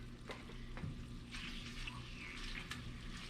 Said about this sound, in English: We're just gonna take this in there and just kind of sear it off real quick